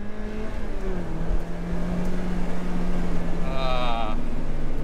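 A 130-horsepower car drives steadily, its engine drone holding a smooth, rising tone close by throughout, with a brief higher whine near the end.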